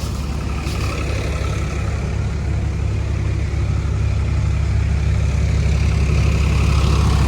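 A 2018 Farmtrac 60 PowerMaxx 55 hp tractor engine idles in a steady, close, low diesel drone that holds an even level throughout, with no voices.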